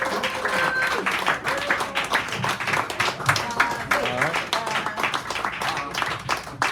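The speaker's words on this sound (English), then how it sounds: "Bring him on up here with a nice round of applause." Audience at a poetry hour in a San Francisco cafe gives a warm round of applause: dense, continuous clapping from a small crowd, close and lively, with voices mixed in.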